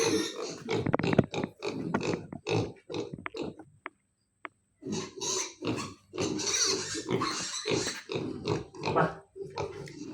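Four pigs grunt and munch steadily at a lunchtime feeding, with dense close snorts and chewing, one brief lull midway, then more continuous grunting.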